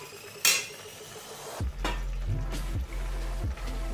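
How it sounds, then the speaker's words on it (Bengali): Fried prawns tipped into a pan of bottle gourd while cooking a Bengali lau chingri dish, a bright metallic clang followed by several dull knocks and scrapes of a utensil against the pan, close and clear with no talking. "আর এর মধ্যে ভেজে রাখা চিংড়ি মাছটাও এখন আমি অ্যাড করে দেব।"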